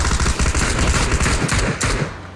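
Rapid automatic gunfire from a video-game shootout against bots, dense continuous bursts filling the clip at close range with no talking.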